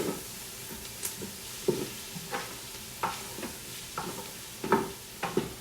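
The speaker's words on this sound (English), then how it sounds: "So let that garlic cook in there" Garlic cooks in a pan for a white bean chicken chili, with a soft background sizzle broken by about a dozen clinks and scrapes of stirring at uneven intervals.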